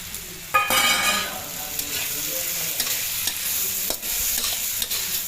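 Vegetables with turmeric frying in a pan, stirred by a spoon throughout, a steady sizzle broken by scraping strokes and light clinks of metal, close and fairly loud, with no voices.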